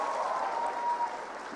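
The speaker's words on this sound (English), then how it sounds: "Let's have a big round of applause" A brief burst of audience applause at a We The Women politics event, dense and moderately loud, with a mid-pitched tonal wash running through it.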